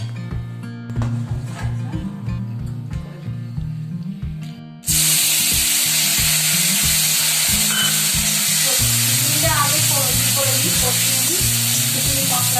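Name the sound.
boiled mung, masoor and matar dal added to a hot pan, sizzling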